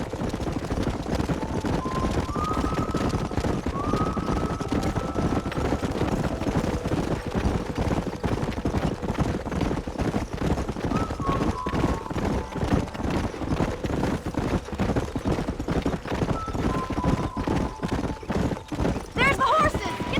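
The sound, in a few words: wild horses galloping in video game Red Dead Redemption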